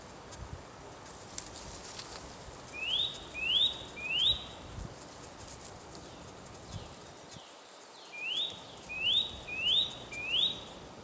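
A spring bird sings a series of rising, sweeping whistled phrases, repeated in two bursts of three or four notes over a soft outdoor background, clear and moderately close.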